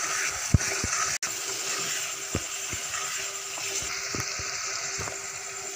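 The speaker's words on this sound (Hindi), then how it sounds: "मसाले को हमने अच्छी तरह से भून लिया है" Spice masala for an aloo shimla mirch sabzi frying in a pan: a steady broad hiss of sizzling oil with occasional sharp taps and clinks of a utensil.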